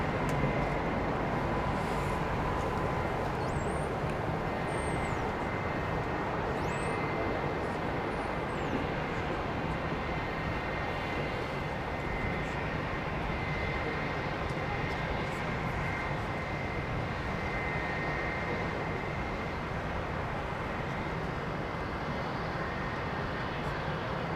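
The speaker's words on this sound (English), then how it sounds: "All the noises of the startup, all the systems starting to kick into place. You know, the compressors all coming together." Rolls-Royce jet engines on an airliner at Heathrow whine and roar in a steady, continuous wash of sound, heard from a distance against airport background noise with no talk.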